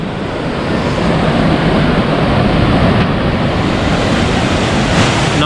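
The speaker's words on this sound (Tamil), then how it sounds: "தண்ணி செம்ம ஃபோர்ஸாக வந்துட்டுருக்கு." Lakkam Falls pours down with great force, a loud, steady broadband roar of rushing water filling the whole stretch without a break, close and constant with no voices over it.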